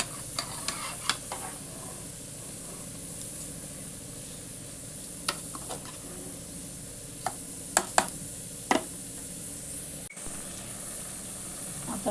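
Washed rice with salt is gently stirred in a pot for egg biryani. A spoon knocks and scrapes against the pot in sparse, sharp clicks over a faint, steady hiss, with no voices.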